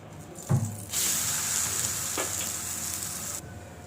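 Oil sizzles steadily in a hot pan after a soft thud as a mixed-lentil pancake is flipped, with a brief scrape partway through; the frying hiss stays bright and constant.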